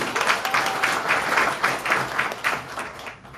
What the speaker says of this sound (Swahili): Tuwapigieni makofi